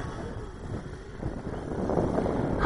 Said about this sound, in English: Got the same wind blowing off my same little cross winds.